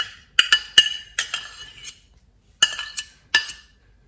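Rice flour and curd go into a bowl for dosa batter, with a handful of bright clinks of a utensil against the bowl, spaced out with short quiet gaps and no talk.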